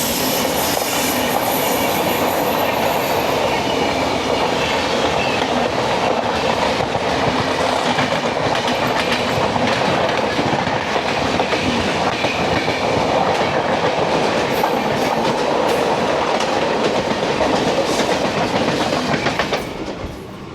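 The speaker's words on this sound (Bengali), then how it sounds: "এখন ট্রেন চলছে দেখতেই পাচ্ছ" The Santragachi to Digha train, running almost empty, roars on at a loud, constant level for twenty seconds with rhythmic wheel clatter and some squealing from the wheels as it takes a curve. It fades slightly at the very end, with no voices.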